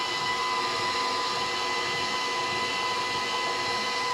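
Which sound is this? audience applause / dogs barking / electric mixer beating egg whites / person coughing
electric mixer beating egg whites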